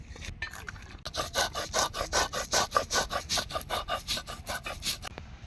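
Poppy seeds with some white and black seeds being ground on a stone, heard as a close, rhythmic scraping with about a dozen even back-and-forth rubs in a row.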